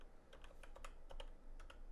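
Quick burst of typing on a computer keyboard, with a dozen or so light, rapid keystroke clicks, quiet and close, with no talking.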